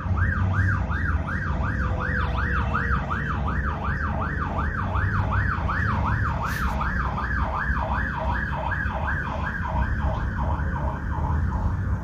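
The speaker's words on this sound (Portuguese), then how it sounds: "Deixa passar a viatura, aqui também tem isso." A police car siren wails, cycling steadily up and down over a low traffic rumble, holding fairly constant as the car goes by.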